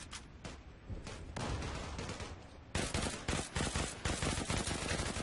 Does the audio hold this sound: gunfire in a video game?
yes